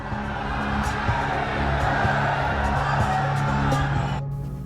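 A big outdoor crowd applauds and cheers at Nitish Kumar's swearing-in as Bihar chief minister on an open ground, a continuous dense roar with scattered whoops that cuts off abruptly just before the end.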